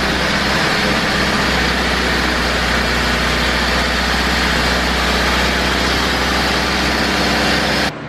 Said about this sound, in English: let the car run for about 15 minutes.